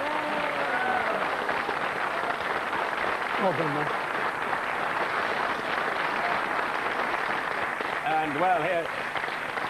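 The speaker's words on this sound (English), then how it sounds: "give him a huge round of applause" A TV studio audience applauding for a departing game-show contestant, steady clapping running throughout while someone talks over it near the microphone.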